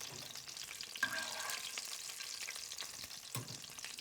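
Green tomato slices frying in grease in a pan, giving a steady, fairly quiet crackling sizzle with one sharp pop early on and a soft clink near the end.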